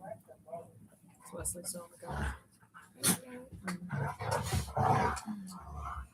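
Dogs bark and whimper in short, irregular bursts at close range on a cold winter day, mixed in with people talking over them.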